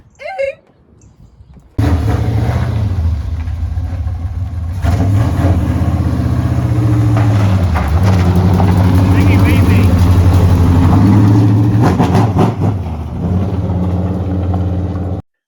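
A car engine idles and works steadily while the car backs up at a shop with scale pads, loud and continuous after a brief quiet start, with a voice over it.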